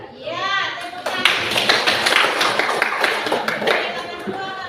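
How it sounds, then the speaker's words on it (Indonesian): Classroom clapping in an economics lesson: a group of students applauding together for about four seconds, dense overlapping claps starting after a brief opening voice, fairly close and loud. "Iya, tepuk tangan."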